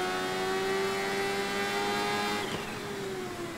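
A Kawasaki H2 motorcycle engine in the racing video game Ride 3 accelerating hard, a steady high-pitched tonal whine that climbs in pitch and holds loud and continuous, with no talking over it.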